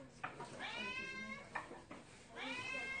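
A hungry cat meows close by during a cooking class in Myanmar, giving three drawn-out, rising and falling cries separated by short pauses.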